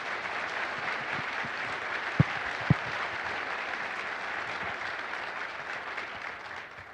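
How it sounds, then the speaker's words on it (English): Audience applause at a city State of the City address, an even, steady roll of many hands clapping at moderate level, with two sharp knocks near the middle. "let's give them a round of applause"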